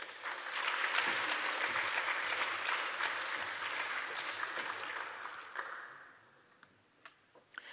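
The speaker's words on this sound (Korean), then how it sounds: "큰 박수로 맞아 주십시오" Church congregation applauding to welcome a speaker at a Sunday afternoon service, a sustained burst of clapping that fades out after about six seconds, leaving a few scattered late claps.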